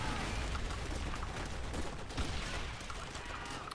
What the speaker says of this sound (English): let's use the old